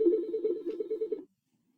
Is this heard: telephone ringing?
yes